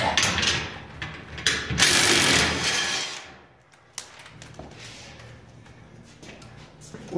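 A ratchet and wrench work a lock nut during a garage door installation, giving fast rattling clicks in bursts up close, followed by quieter intermittent clicks, with some talking mixed in.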